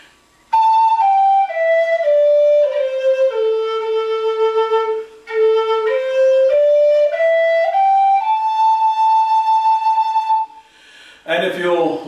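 Native American flute plays a slow, simple melody of sustained, breathy notes stepping down and back up, clear and close, ending with a brief noisy burst.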